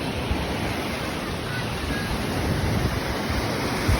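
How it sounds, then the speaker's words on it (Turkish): Waves washing ashore at the women's beach in Kuşadası, a steady broad rush of surf mixed with wind noise, continuous and fairly loud throughout. "Burası kadınlar plajı."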